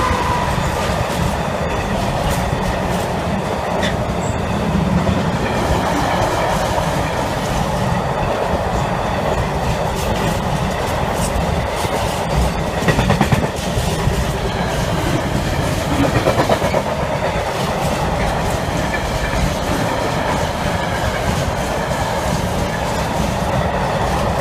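Deutsche Bahn Class 66 diesel locomotive hauling a mixed intermodal freight train past a level crossing, a steady loud rumble with rhythmic clickety-clack of wagon wheels running on continuously throughout.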